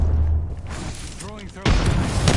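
Grenade explosion in the video game Apex Legends, a loud, full boom that bursts in suddenly about two-thirds of the way through and rumbles on, following a brief whooshing, warbling sweep.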